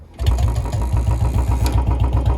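A Royal Enfield Bullet 350 motorcycle engine with about 20,000 km on it starts and settles into a steady thumping idle, a low rhythmic pulse that stays close and loud with no voices.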